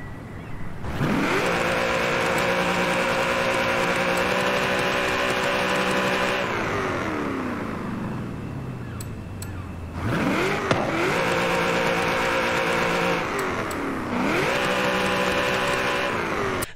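A car engine in the video game Forza Horizon 5 revs hard and holds high, drops away, then roars back up twice more, loud and close with no voices.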